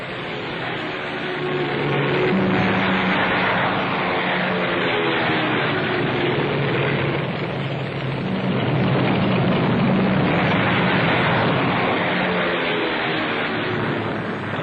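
A steady, loud roar of engines builds and holds for the whole stretch, like Japanese carrier aircraft powering up and lifting off from aircraft carriers turned into the wind, with no voices.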